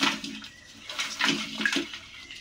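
Water splashes and sloshes in uneven bursts as mud-caked mud crabs are rinsed clean, a close and fairly loud wet washing sound.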